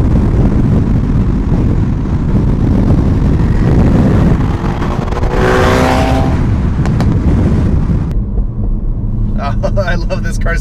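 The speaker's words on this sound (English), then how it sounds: "Heel toe and getting some pops out the back is the best thing in the world." A Ford Focus RS roars loudly through a hard second-gear pull, heard from inside the car, with a heavy, constant engine rumble and sharp crackling exhaust pops toward the end.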